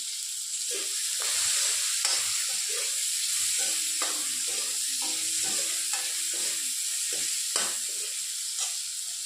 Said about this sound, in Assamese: নহৰুখিনি আৰু পিঁয়াজখিনি অলপ ভাজি ৰঙচুৱা হ'লে